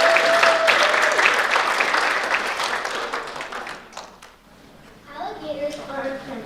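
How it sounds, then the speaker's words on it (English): Audience applause at a festival of the arts readings event, broad clapping that gradually fades out, followed by a speaking voice. "So one more round of applause for Morgan Solsky."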